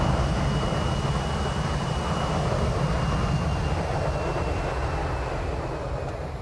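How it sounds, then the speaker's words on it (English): An IXEG Boeing 737-300 in X-Plane 11 cruises over London, giving a steady, loud roar of engines and airflow with a faint high whine, continuous and unchanging with no one speaking. "here we are flying in the IXEG 737-300 in X-Plane 11 Beta over London"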